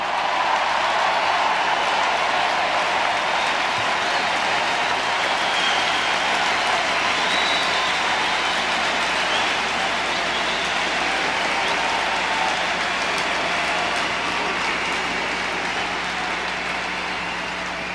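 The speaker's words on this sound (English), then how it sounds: "You cheer now because you know this is true." A huge hall crowd at the 1996 Democratic National Convention, addressed by President Bill Clinton, cheers and applauds continuously, a loud, dense roar of clapping and shouting that holds steady throughout, with no clear speech.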